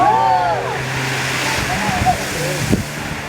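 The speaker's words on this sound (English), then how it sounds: "On the last day, we stopped in Kiama at the blowholes." Ocean surf at the Kiama blowholes gives a steady broad wash of waves and wind, with voices speaking over it throughout.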